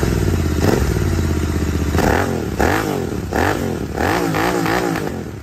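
Jawa 42 Bobber motorcycle fitted with a Red Rooster Performance exhaust, idling with a low throbbing note before a series of sharp, loud revs that rise and fall in quick succession, close by and without any talking.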